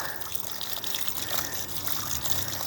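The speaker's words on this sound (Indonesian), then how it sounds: "kita lakukan penyiraman" Water trickles and splashes steadily onto levelled farm soil, a close, continuous, faint stream with no voices.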